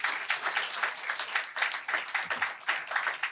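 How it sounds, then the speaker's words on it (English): Audience applause at a legislative reception, a rhythmic burst of hand clapping from a small crowd, fairly close and continuous with slight dips. "Yeah, clap it up."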